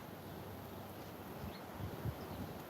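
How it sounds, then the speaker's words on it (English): Strong wind blows outdoors across an uncovered microphone, a steady broadband rush with occasional low buffeting thumps and rustling, faint and continuous with no voices. "very windy outside. I'm sure you guys can hear it because I took my mic off."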